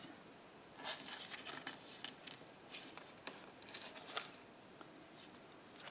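Scissors snipping paper in a journal: a quiet, quick series of soft cuts and papery rustles, close and faint, with no talking.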